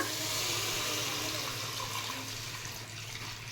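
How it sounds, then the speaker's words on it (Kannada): Water pours steadily into a dry pan of sautéed vegetables while garlic pepper vegetable soup is being cooked, making a continuous, close, fairly loud splashing rush that holds throughout. "ಹಾಗಾಗಿ ಈಗ ನೀರು ಹಾಕ್ಬಿಡೋಣ"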